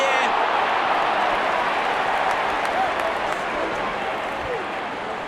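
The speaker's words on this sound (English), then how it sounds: "Such a wonderful crowd in to watch their favorite players." A cricket crowd applauding in the Real Cricket video game, a broad wash of clapping and cheering that holds steady and loud throughout, easing slightly toward the end.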